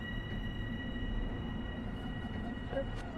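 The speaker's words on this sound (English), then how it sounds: "Just sounds like a train next to me or something." A passenger train rumbles past alongside on the Long Island Rail Road route in Train Sim World, a steady low roar heard from inside a cab with an electronic tone hovering above it.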